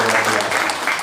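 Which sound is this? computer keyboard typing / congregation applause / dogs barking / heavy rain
congregation applause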